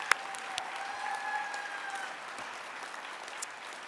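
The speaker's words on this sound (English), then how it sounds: "Let's give them one more round of applause." Gala audience applause, a moderately faint, even patter of many hands clapping in a large room, with a thin whistle-like tone rising briefly through the middle.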